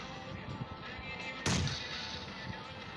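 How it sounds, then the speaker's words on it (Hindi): A single sharp bomb blast bursts out midway through a low, muffled background, loud and sudden with a short decaying tail. "बम"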